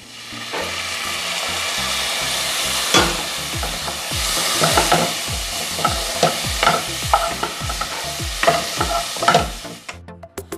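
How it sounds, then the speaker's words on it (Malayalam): Ginger garlic paste being stirred into browned onions in a hot pan for mattar paneer: a steady sizzle of frying with repeated scraping strokes of a spoon, close and fairly loud, no talking. "ഇഞ്ചി വെളുത്തുള്ളി പേസ്റ്റ് ഇട്ടിട്ട് 2 മിനിറ്റ് ഒന്ന് ഇളക്കണം."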